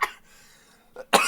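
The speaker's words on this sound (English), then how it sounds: "this is the first time I've been coughing, and it feels like a healthy cough" A person coughs a few times in quick bursts, close and fairly loud, with quiet pauses between.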